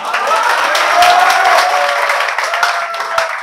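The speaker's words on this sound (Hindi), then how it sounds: "इसमें ताली बजती है।" Applause from a classroom of students, a dense wash of clapping that stays loud and steady throughout with no talk over it.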